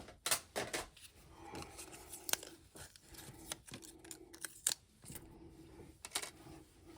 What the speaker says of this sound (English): We're going to send that through. Love these little die cutting machines for small jobs like this.